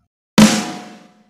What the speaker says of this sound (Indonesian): Kemudian ketuk snare.